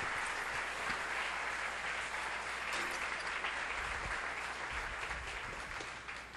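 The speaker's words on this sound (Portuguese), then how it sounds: "Vamos dar um aplauso ao Senhor." A church congregation claps together in a broad, steady wash of applause that carries on evenly and tapers slightly at the end, with no one speaking over it.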